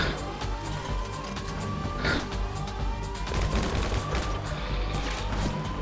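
Gunfire in a GTA Online contract mission: a dense, continuous rattle of shots and impacts filling the scene at steady loudness, with game ambience underneath.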